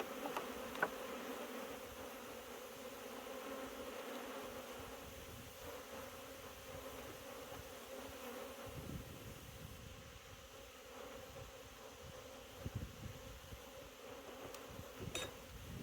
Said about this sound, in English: Got a lot of bees flying around me